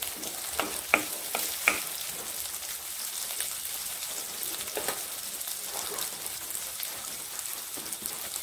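Ginger fries in a pan with a steady close sizzle while a utensil stirs and scrapes, giving a few sharp clinks over the continuous crackle.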